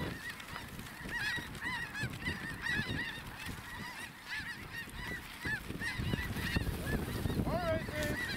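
Dense flock of snow geese honking continuously during a waterfowl hunt over decoys, a loud, layered chorus of overlapping calls from many birds near and far, with no talking.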